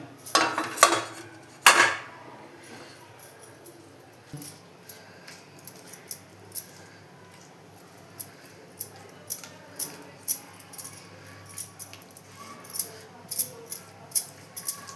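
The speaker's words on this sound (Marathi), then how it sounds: "गॅसवर टोप ठेवला" A cooking pot set down on a gas stove while making alu vadi (colocasia leaf rolls), with a couple of sharp metallic clunks early on, then scattered light clinks and kitchen handling noises through the rest.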